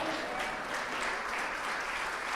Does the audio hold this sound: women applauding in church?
yes